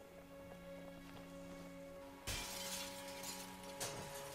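Brick thrown through glass in The Walking Dead video game, a sudden loud shattering crash over a steady tonal hum, with a brief second clink of falling shards a moment later.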